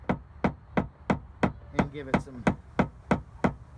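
A paintless dent repair tapper strikes a dent on a Lancer Evo body panel outdoors in a steady run of about a dozen crisp, evenly spaced taps. A voice speaks briefly in the middle of the run.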